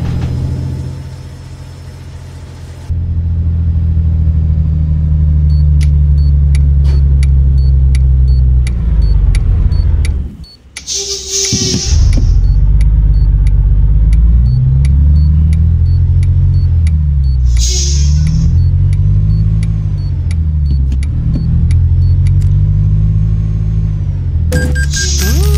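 A Renault Magnum 8x4 truck engine in Euro Truck Simulator 2 rumbles deep and loud, revving up and down through gear changes, with a brief drop and hiss, and tones and clicks over the drone.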